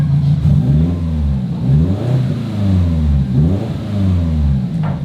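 A car engine runs loud and close after sensor and coil pack work, revving up and down in repeated rising and falling cycles with a rough, throbbing tone.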